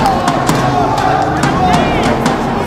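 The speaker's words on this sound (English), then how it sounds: "the shouts from the crowd start to ring out" Crowd shouts and cheers at a live esports tournament broadcast for a shooter match, a steady roar of voices with short bursts rising throughout.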